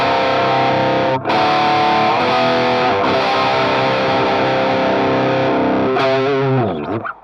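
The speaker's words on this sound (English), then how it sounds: "And with the Metal Zone engaged, it sounds something like this." Heavily distorted electric guitar driven by a Metal Zone pedal into a Marshall amp, loud sustained chords with brief pauses between changes and a final slide as the notes cut off.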